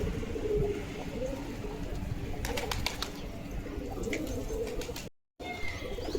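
Pigeons coo softly in a group, low repeated throaty calls under a busy outdoor background with a few sharp clicks and flutters midway.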